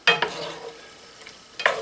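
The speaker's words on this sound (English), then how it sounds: "brown the hamburger up" Hamburger meat browning in a pan for beef stroganoff gives short scraping stirs and brief bursts of sizzle, with a quieter hiss between them and no voices.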